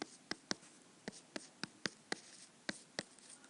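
Marker or chalk writing math on a board, with sharp taps and strokes landing in an irregular rhythm, about a dozen distinct hits, close and fairly quiet with no talking.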